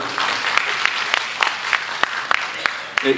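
An audience applauds at a stand-up comedy show on the MACTA stage, a loud, close burst of many hands clapping that keeps up for a few seconds.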